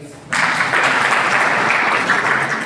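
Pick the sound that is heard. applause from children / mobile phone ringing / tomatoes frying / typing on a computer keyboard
applause from children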